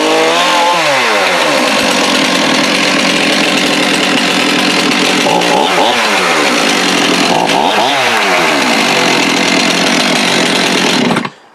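A nearly new Stihl chainsaw running loudly with the chain spinning though the chain brake is on, a steady buzzing engine with several rising and falling revs, cutting off abruptly at the end.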